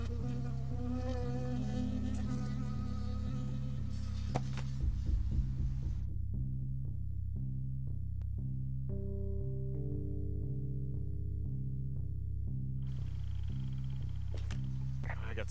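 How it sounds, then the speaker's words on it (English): Bee buzzing in the video game Firewatch, a steady droning hum that runs throughout beneath a pulsing low game soundtrack, with a brief burst of louder noise partway through. "I got stung by a bee."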